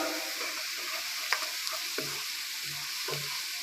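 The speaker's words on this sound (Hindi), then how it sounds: "इसे भी थोड़ा सा भून लेंगे ताकि इसका फ्लेवर अच्छे तरीके से शामिल हो जाए" A steady hiss of cumin seeds sizzling in oil with fried onions in a pan, with a few scrapes of a spoon stirring now and then, close and uninterrupted by speech.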